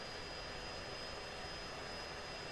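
Jet aircraft engine in the flight simulator game Falcon BMS, a steady, quiet, even roar with a thin high whine, unchanging throughout and with no voices.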